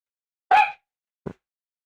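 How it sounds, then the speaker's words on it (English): A female dog barks once indoors: a single sharp, fairly loud bark, followed after a brief pause by a softer, shorter sound. "Is she barking at the cat?"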